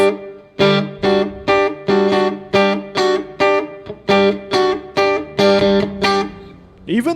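An electric instrument plays a run of short, evenly repeated notes through a small Vox tube amp set to a digital spring reverb effect, loud and close, each note decaying into a reverberant tail with a brief voice at the very end.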